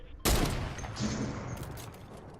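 Loud bursts of rapid gunfire crackle and echo in a video game, a duo battle royale match, with a brief sharp blast at the start and rumbling noise throughout.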